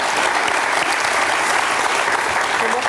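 A French television studio audience keeps up a thick, even wash of applause, loud and unbroken from start to finish.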